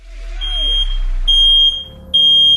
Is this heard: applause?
no